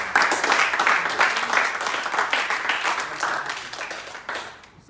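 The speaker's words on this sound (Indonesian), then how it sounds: "Berikan aplaus dulu kepada" Students in a public speaking class applaud after a classmate's speech: a burst of many hands clapping together, fairly close, fading away toward the end.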